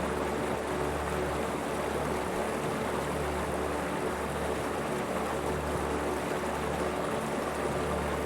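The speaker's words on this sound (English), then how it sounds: "waterfalls cascade through rugged terrain, quiet, remote, and unreachable by road" A waterfall pours through rugged, remote Kamchatka terrain, a steady dense roar of rushing water that holds constant and loud with no break, no voices present.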